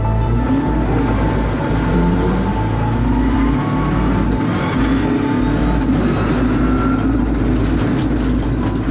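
A rally car drives hard on a forest stage at the Tall Pines Rally 2021, its engine a loud, sustained roar with shifting tone and gritty road noise, heard close and without pause.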